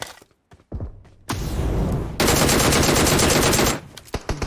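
Video game gunfire: loud bursts of rapid automatic shots, a few sparse single shots first, then a sustained dense stream of fire that cuts off abruptly near the end.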